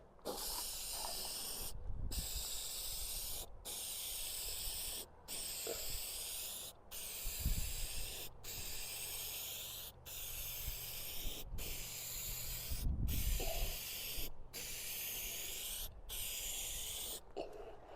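Aerosol spray coating car headlights hisses in a long series of steady bursts, each separated by a brief pause, close and fairly even in loudness.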